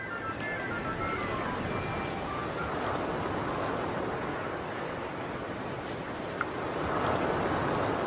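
Steady broadband ocean surf, a continuous wash of waves rolling and breaking at moderate distance, with a slight swell in loudness near the end and no voices.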